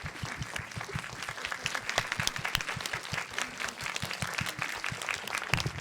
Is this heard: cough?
no